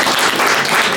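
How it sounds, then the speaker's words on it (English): A crowd at a boxing press conference applauds loudly and steadily, a dense wash of clapping that fills the whole moment without a break. "I think that deserves a big round of applause"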